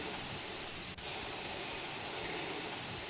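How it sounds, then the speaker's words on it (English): Steady spray-paint hiss from a spray gun during a refurbishment job in the video game Junkyard Builder, loud and continuous through the whole stretch with only a momentary break near the start. "Give this a good old spray, make sure we get all those areas again."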